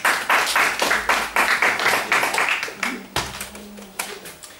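A small audience at a Wing Chun kung fu presentation claps in distinct, fairly close individual claps with a rhythmic, uneven pattern that gradually thins and softens toward the end.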